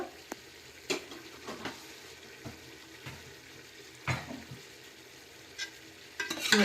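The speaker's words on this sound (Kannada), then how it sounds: "ಇದು ಚಂದ ಇದರಲ್ಲಿ ಫ್ರೈ ಆಗಬೇಕು ನೋಡಿ" Masala for ghee rice chicken gravy fries in a pan with a faint sizzle, broken by scattered scrapes and knocks of stirring, close and fairly quiet, with no talking.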